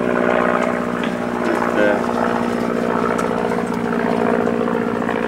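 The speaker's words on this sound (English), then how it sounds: "Shall we wait for the aeroplane to pass?" A propeller aeroplane drones overhead, a loud, continuous engine hum filling the whole stretch without fading.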